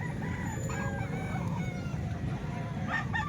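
Roosters offered for sale crow and chickens cluck nearby, a clear crow rising over steady background noise of a busy market.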